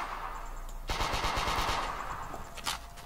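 Automatic weapon fire in a third-person shooter game, one short rapid burst of shots in a quick rhythm near the middle, then a single sharper report just after, heard alone over a quiet hum.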